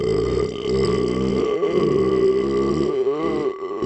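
One long, loud, drawn-out burp rolls on for nearly four seconds, its pitch wavering and croaking throughout, heard up close and on its own.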